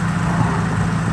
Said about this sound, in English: we're sitting here idling